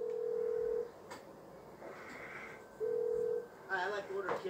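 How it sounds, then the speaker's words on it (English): Phone calling a taxi company in Grand Theft Auto V: two steady ringing tones separated by a pause, followed by a short burst of beeps, with a voice talking over it. "I can call a cab. So, pull out the phone."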